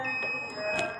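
A Polytron Zeromatic washing machine control module beeps after being plugged in, giving a sustained electronic tone with harmonics over faint background noise.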